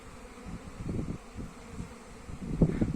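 Carniolan honeybees, including young bees on orientation flights, buzz steadily around a hive entrance fitted with a pollen trap, a soft droning hum with individual insects swelling louder as they fly close by.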